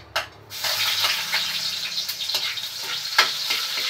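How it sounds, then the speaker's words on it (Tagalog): Garlic hits hot rendered pork fat in a pan, starting with a sudden burst of sizzling that settles into steady close frying with small crackling pops. "ilagay na po natin ang bawang"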